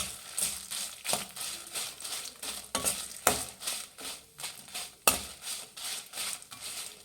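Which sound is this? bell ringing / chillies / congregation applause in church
chillies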